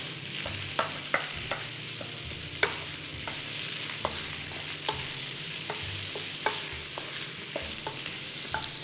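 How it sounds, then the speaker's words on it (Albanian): Chopped onions frying in a pan with salt and salami, a steady close sizzle broken by regular sharp scrapes and clinks of stirring, no voices. "i skuqim, shtoj. Qepët që i kam prerë"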